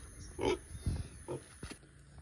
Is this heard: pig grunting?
yes